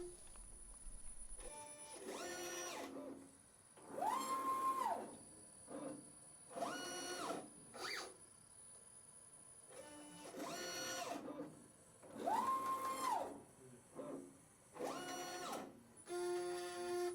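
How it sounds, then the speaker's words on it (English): ePrep syringe in wash mode, aspirating from one jar and dispensing into a waste jar: repeated whirring motor bursts of a few seconds each, separated by short pauses and clicks, faint and mechanical. "You can see a short section of this ePrep wash mode operating here"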